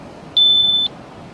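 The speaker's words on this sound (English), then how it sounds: "The alarm's going off." A radiation detector's alarm on a beach gives one steady high-pitched electronic beep of about half a second, loud and clear over a low, quiet hiss of background noise.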